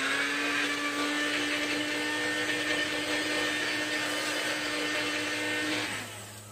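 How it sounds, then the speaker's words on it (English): A blender whirring through a cup of beets, a loud, steady motor drone with a high whine that runs for several seconds, then winds down and stops, with no talking. "nice about a blender is that you can kind of direct that"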